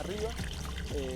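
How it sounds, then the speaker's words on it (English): Spring water at a high-altitude vineyard, 1,690 m above sea level, falls from a source about ten meters up, making a steady trickling, pouring wash beneath a voice. "This is a water spring. The water comes from up there, 10 meters up."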